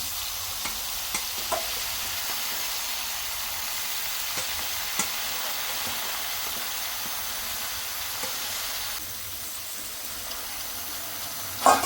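Soaked lemon pieces fry in oil with chili powder for a village-style lemon pickle, a dense even sizzle and hiss holding steady throughout, with a few faint stirring knocks and no voices.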